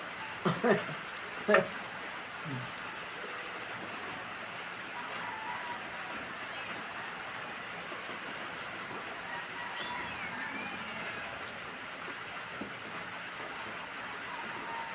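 Steady hiss of falling rain fills the whole stretch, with a few close knocks and thumps early on and faint voices underneath.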